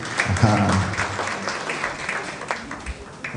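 Brief clapping from an audience of faculty members at a university content-creation masterclass, moderately loud and steady, fading toward the end with some murmuring.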